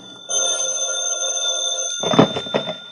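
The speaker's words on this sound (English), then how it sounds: "The phone woke me up." An old-fashioned telephone bell rings loudly and insistently in a radio drama, a sustained metallic trill that breaks into a rattling burst near the end.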